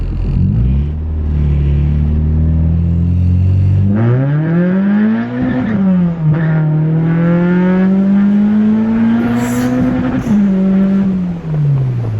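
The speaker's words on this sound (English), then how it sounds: "That was double clutching." An LS-engined car revs hard under load, its loud, close drone climbing, dipping between gears as the driver double clutches, then climbing again for several seconds.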